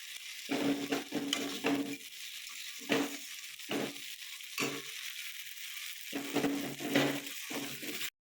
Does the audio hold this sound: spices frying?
yes